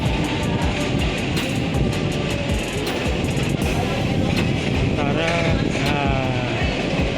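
A train rolls along the rails at Tanjung Priok station with a loud, continuous rumble and rattling, ratchet-like clanks. A voice is briefly heard over the noise.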